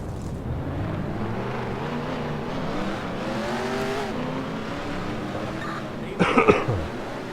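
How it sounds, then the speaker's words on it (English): Race car engines in the NR2003 video game drone together in a steady, layered hum, with a brief sharp clatter of revving near the end. "Drivers, start your engines!"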